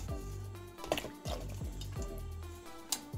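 Dried, deseeded chili peppers dropped into a bowl of water to rehydrate, giving soft close wet drips, small splashes and squishy liquid sounds in a quiet kitchen.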